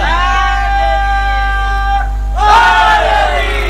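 Shia majlis audience on 8 Muharram at Marar Chak 45, Sangla Hill, raising a loud collective chant of "Ya Ali" after a sustained tone, the crowd's voices surging together in one burst.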